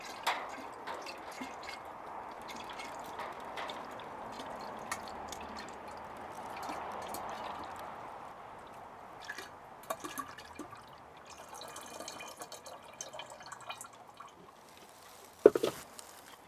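Sugar-water feeding solution for bees is poured into a carboy, a soft continuous gurgle of filling liquid with scattered drips, sloshes and a couple of sharper knocks near the end.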